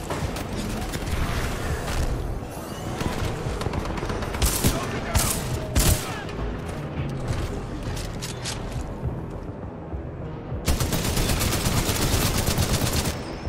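Gunfire from a gun in the video game Titanfall 2 rattles in fast, loud bursts of rapid shots, with a sustained heavy volley near the end.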